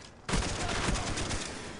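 In a first-person shooter game, a rapid burst of gunfire breaks out suddenly after a short quiet moment and continues as a dense, crackling spray of shots.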